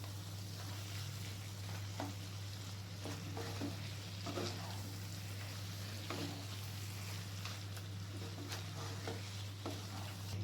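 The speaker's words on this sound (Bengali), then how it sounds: "চিকেনের সাথে আবার ভালো করে মিক্স করে নেবো" Steady scraping and sizzling as chicken and masala are stirred in a hot pan, with a constant low hum underneath and no talking.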